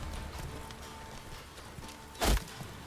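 Horse hooves clip-clopping in The Witcher 3 video game, a steady run of hoofbeats throughout with a louder, heavier thud near the end.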